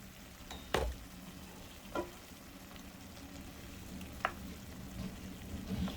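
A browned meat mixture is stirred in a pan for an off-grid dinner, giving a faint, soft sizzle under occasional sharp clicks and scrapes of the utensil, with no talking.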